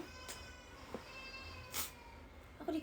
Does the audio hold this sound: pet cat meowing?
yes